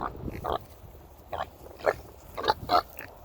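A sow grunts and snuffles nearby in a series of short, irregular grunts, a few louder ones toward the end.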